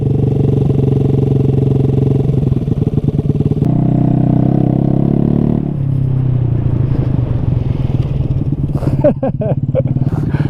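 A car engine idles high at about 4,000 rpm because of a faulty idle screw, a loud, steady, close droning hum that shifts pitch twice and ends with some rattling clatter.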